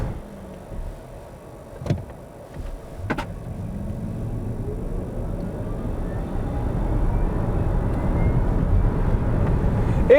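A Smart #5 Brabus electric car accelerating at full power, a low road rumble and tyre roar that builds steadily louder over about ten seconds, with a couple of brief clicks near the start and no talking.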